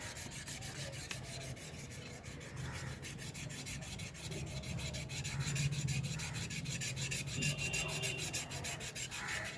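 Steady abrasive rubbing on a carbon steel kitchen chopper to lift stains, a continuous close rasping scrub that swells slightly in the middle and carries on without pause.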